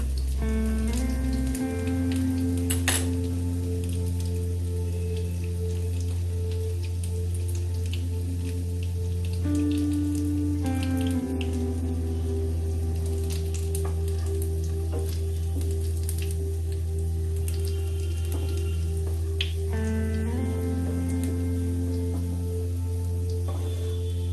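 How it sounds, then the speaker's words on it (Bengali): Masoor dal cutlets fry in a pan with a continuous close crackling sizzle, layered over a steady low hum and tonal background noise, without speech. "হ্যাঁ, আমার ভাজা হয়ে গেছে।"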